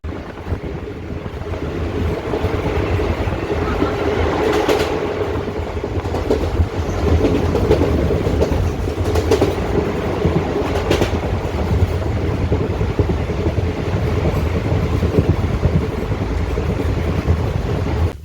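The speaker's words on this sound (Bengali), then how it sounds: "এখন এই ট্রেনটা যাবে" A train bound for Balurghat rolls along the rails with a continuous low rumble and occasional clattering bursts, heard from on board with no talking.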